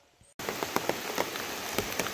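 Rain falling on a farm starts abruptly after a near-silent moment, then a steady dense hiss of drops on surfaces continues, with occasional louder individual splats.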